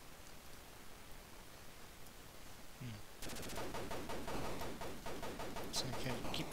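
Rapid shooting in an Atari 2600 Defender-clone game, a sudden burst of fast repeating electronic shots that starts midway and continues steadily, fairly faint.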